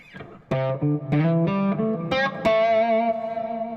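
An overdriven electric guitar played through an amp into a Lone Star 23 cabinet, with delay added, picks a quick run of about six distinct notes, each ringing and overlapping into the next, loud and alone.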